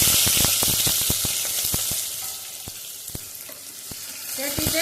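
Small onions, big onions, green chillies and curry leaves sizzle steadily in hot oil in a non-stick pan, a loud continuous frying hiss broken by sharp crackles and pops, with no talking.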